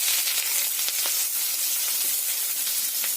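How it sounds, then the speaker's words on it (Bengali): Chopped onion added to hot oil with five-spice seeds gives a dense, loud, continuous hissing sizzle, close and unbroken throughout. "এতে দিয়ে দিতে হবে কুচিয়ে রাখা পেঁয়াজ"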